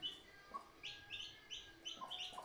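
Chicks peep in quick, high, repeated chirps while pecking at a small handful of feed, the calls close and fairly loud, with faint pecking underneath.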